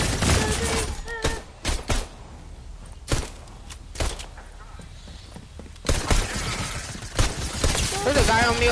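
A PS4 game firefight: rapid bursts of loud, close gunfire repeat in clusters with short pauses between them, and a voice speaks at times under the shots.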